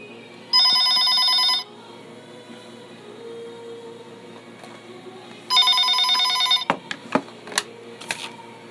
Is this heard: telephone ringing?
yes